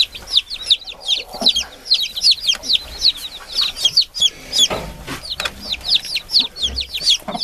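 Hens and chicks in a coop where new chicks were placed under a brooding hen; repeated high chirps and soft clucking run steadily throughout, close and moderately loud.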